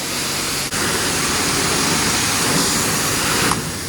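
At a self-serve car wash, a pressure washer wand sprays water in a loud, steady broadband hiss that cuts out briefly early on and continues close up.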